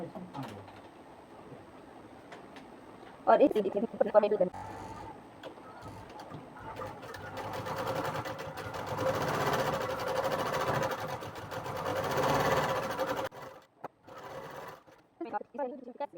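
Sewing machine running a long straight seam across a folded blouse edge and its lining, a steady loud mechanical whir, preceded by brief handling clatter and followed by a few short bursts; someone talks nearby.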